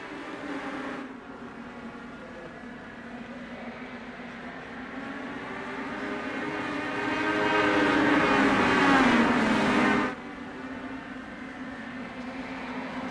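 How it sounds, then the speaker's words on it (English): Legends coupe race cars circle the Oxford oval in a sim racing game, their engines droning as one continuous buzzing tone that rises in pitch and swells louder before cutting back, with no talk. "Let's give him a little crank it up right here and listen to these cars go around track."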